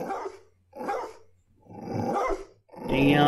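A dog in a video game demo barks and growls in four loud bursts, each separated by a short pause, with the final burst rough and snarling.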